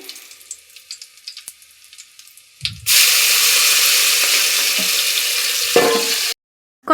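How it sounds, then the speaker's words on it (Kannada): Curry leaves and crushed onions dropped into hot tempering oil set off a sudden loud sizzle after a few quiet clinks. The hiss holds steady for several seconds, then cuts off abruptly. "ನಂತರ ಜಜ್ಕೊಂಡಿರೋ 5-6 ಈರುಳ್ಳಿ ಹಾಕೋತಾ ಇದ್ದೀನಿ ಒಗ್ಗರಣೆಗೆ"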